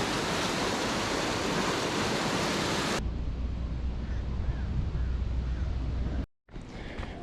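A river rushes over and across a path as a dense, loud torrent of water. The roar softens after a few seconds, then cuts out briefly and returns.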